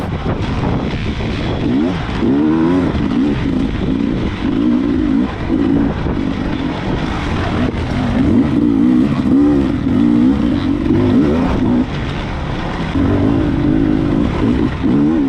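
A 300 two-stroke dirt bike engine races through a NETRA hare scramble, loud and close, with rising and falling revs in repeated surges and a continuous buzzy roar.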